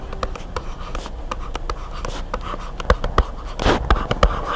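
Pen scratches and taps on a surface while an equation is written by hand, a run of short strokes with a few sharper knocks, close and moderately loud with no voices.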